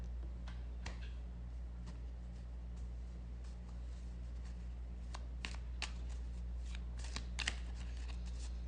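Tarot cards are shuffled softly in quick riffles and taps, faint and close against a low steady hum, with scattered sharper card snaps toward the end.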